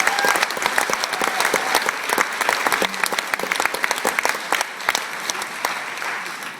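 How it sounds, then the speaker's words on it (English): An audience at a school pops concert breaks into applause, a moderately loud patter of many separate hand claps that thins and tapers toward the end, with faint crowd murmur beneath. "So let's give them a big round of applause."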